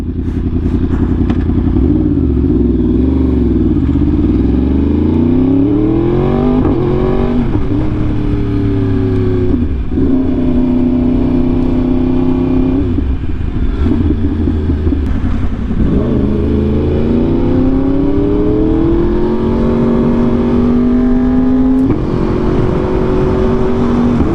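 A Yamaha R1M sportbike fitted with an SC Project exhaust revs repeatedly, its engine note sweeping up and down in loud, close, rising and falling pulls over a continuous idle.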